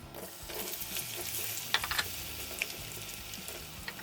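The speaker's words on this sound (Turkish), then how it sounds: "Patateslerin rengi dönene kadar kızartalım." Steady broadband sizzling and crackling of potatoes frying in hot oil, with occasional sharper pops and clinks, continuous and close.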